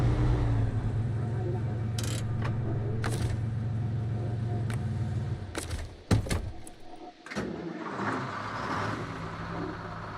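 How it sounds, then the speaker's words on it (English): A GMC truck engine in the video game SnowRunner rumbles steadily up close, then shifts and revs with clunks and bumps, over faint background noise. "That's a good sounding truck though, I have to admit. That GMC sounds pretty good."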